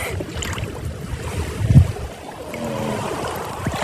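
A person wearing goggles jumps into sea water to dive for fish: one heavy splash lands midway through a steady wash of wind buffeting and rolling waves.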